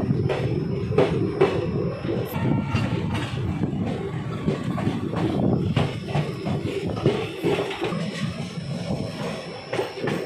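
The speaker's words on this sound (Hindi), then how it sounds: "डिपार्चरिंग टू खटौली रेलवे स्टेशन।" The Ambala–Delhi Intercity Express, train 14522, pulls out of a station with a steady rumbling roll and rhythmic wheel clatter, loud and close, with no talking.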